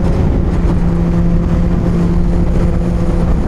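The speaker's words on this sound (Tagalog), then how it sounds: "Lakas ng hangin." Loud, steady wind roar buffeting against a running Kawasaki ZX-10R sports bike engine, a continuous low rumble with a droning hum underneath, no speech.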